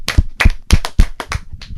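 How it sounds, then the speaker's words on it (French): Small group of people clapping in rhythm during a French language lesson, about seven distinct close claps at a steady pace, no talk. "Applaudissez."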